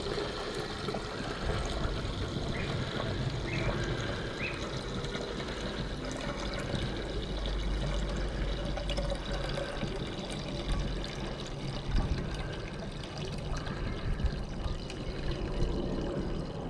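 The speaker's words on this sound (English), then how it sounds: "So I'll pour off the solution, see how much gold we got." Gold-refining solution is poured off from a container in a steady, close liquid stream that runs unbroken for a long stretch, with slight splashing variations.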